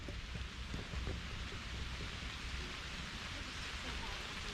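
Steady rain falls on a hiking trail along the Millstone Trail in Middle Creek Wildlife Management Area, a continuous close hiss of drops with no breaks, fairly even in loudness throughout.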